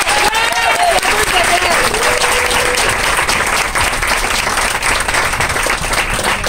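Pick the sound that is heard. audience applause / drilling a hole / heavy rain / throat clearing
audience applause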